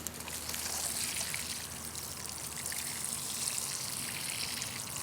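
Water trickles and patters steadily from a watering can onto soil and plants in a vegetable garden, a continuous close splashing with no talk.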